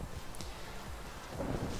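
A Minecraft thunderstorm plays as a steady, quiet hiss of rain with a low, rolling rumble of thunder underneath that swells slightly toward the end.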